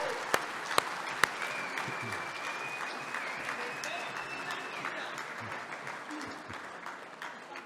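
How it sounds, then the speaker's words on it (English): Gala audience bursts into sustained applause, a dense wash of clapping with a few sharp louder claps early on, tapering slowly over several seconds; a faint tone and murmurs sit underneath. "I think everyone deserves applause."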